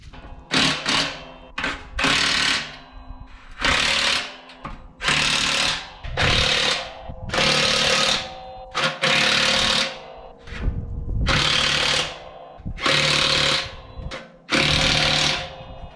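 Bolts on an AR400 cutting edge of a John Deere 1025R snow blade are tightened down in about a dozen loud, rattling one-second bursts separated by short pauses.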